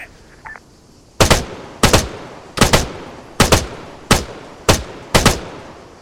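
Seven sharp, loud gunshot reports ring out from a rifle in the ARMA 3 military shooter, evenly spaced about half a second apart, each with a short echoing tail, after a brief faint electronic blip.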